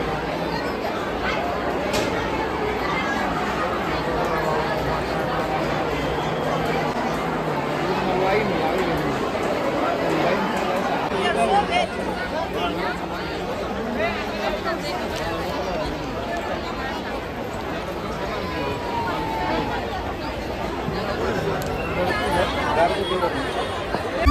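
A large crowd of devotees is gathered at the Balumama temple, where a steady hubbub of many voices and footsteps fills the space throughout. Nearer voices talk over the babble.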